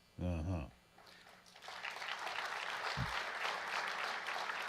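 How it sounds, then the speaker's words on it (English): Tepid applause from an audience, thin scattered clapping that rises after a brief spoken phrase and continues at moderate level to the end. "Tepid applause at best."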